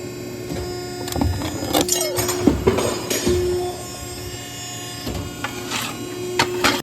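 Metal shear cutting a 1.5 inch wide, 1/8 inch thick steel strip in a chassis fabrication shop, a series of sharp metallic clunks and ringing hits scattered over a steady hum, close and loud.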